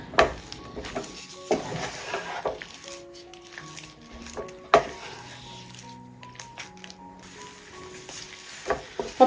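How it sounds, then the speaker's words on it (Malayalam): Idiyappam rice dough is stirred in a pan as it firms up and pulls away from the sides, with close, irregular scraping, squishing and clacking strokes over a faint sizzle, plus occasional tonal beeps. "അപ്പോൾ ഈ ഒരു പരുവം വരെ നമുക്ക് ഇളക്കി കൊടുക്കേണ്ടി വരും."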